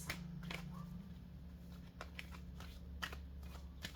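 A deck of oracle cards is shuffled by hand, with soft papery riffles and sharp flicking snaps coming in quick irregular bursts against a low steady hum. The sound is close and quiet, with no talking.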